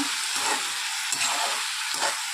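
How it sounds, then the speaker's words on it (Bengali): Pumpkin slices frying in a pan give a steady close hiss of hot oil, with a few soft scraping stirs rising through the sizzle. "এদিকে এই যে কুমড়ো ভাজাটা হচ্ছে"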